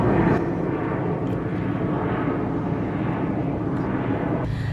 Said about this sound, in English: listen to planes overhead.